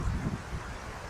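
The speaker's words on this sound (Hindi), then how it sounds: "तेज़ हवा चल रही है" Strong monsoon wind sweeps through a Gujranwala railway station during heavy rain, heard as a steady, loud broadband rush with gusty low-end buffeting on the microphone.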